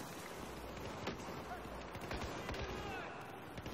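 Gunfire from a Battlefield 4 shootout crackles faintly as scattered, distant shots over a busy background, with a voice partly audible.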